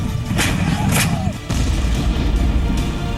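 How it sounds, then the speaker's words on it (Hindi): Indian Army artillery cannon firing shells across the border in the Keran sector, heard as a loud boom with deep rumbling decay, followed by a second heavy blast about midway through. "तो हिंदुस्तान तोप के गोले दाग रहा है।"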